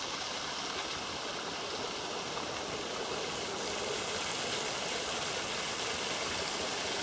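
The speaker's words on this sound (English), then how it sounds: "we shall name this Fountain Creek Waterfall" A small waterfall on a creek near Gosford pours in a steady, dense rushing hiss, constant and fairly close, with no voices over it.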